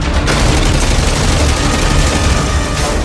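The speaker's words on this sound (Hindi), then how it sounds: "टैंक में लगी गन 1 मिनट में" A T-90 Bhishma tank's remote-operated, roof-mounted anti-aircraft gun, rated at 800 rounds a minute, fires in one loud, dense, unbroken burst of gunfire lasting about three seconds, with no voices.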